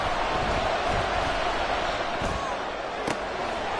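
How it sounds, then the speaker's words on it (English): A stadium crowd at Arrowhead during an NFL football game, a loud, continuous roar that stays level throughout, with a couple of sharp thuds near the end and a commentator's voice underneath. "The Arrowhead crowd in full roar."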